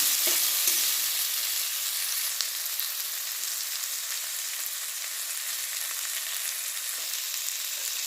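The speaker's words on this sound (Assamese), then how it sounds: "পিঁয়াজখিনি এতিয়া দি ভাজি লৈছোঁ।" Onions frying in oil in a pan alongside potatoes, giving a steady, dense sizzle that holds close and even throughout with no talking.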